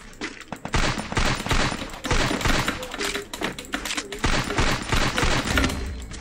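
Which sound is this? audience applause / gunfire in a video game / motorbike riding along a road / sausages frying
gunfire in a video game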